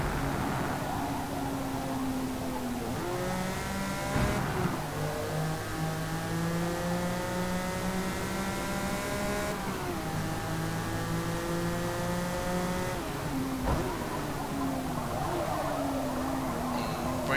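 A V12 mid-engine car in Forza Motorsport accelerates hard, its engine note climbing steadily through several gear changes, each upshift dropping the pitch before it rises again, loud and continuous with no talk.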